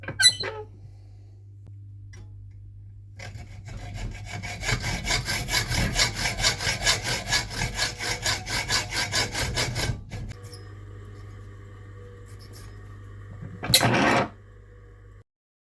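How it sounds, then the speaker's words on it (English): A hand saw cuts a slot in a centre pin fishing reel ratchet plate, a steady run of close, rhythmic back-and-forth rasping strokes for several seconds, followed by quieter handling and a short scrape. "I'll just have to put a bit of a saw cut down as well"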